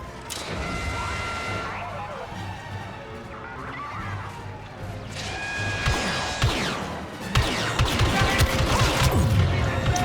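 Gunfire and crashing impacts from the Star Wars Battlefront II campaign, bursts of shots and smashes building louder toward the end, mixed with game effects and someone talking over the action.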